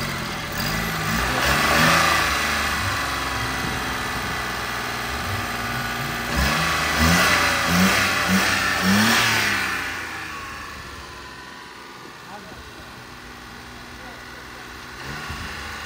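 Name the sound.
Daewoo Matiz car engine revving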